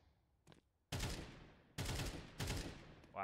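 Gunfire in Counter-Strike 2, three loud close bursts of rapid shots separated by short pauses, with a faint shot before them and a brief metallic ring at the end.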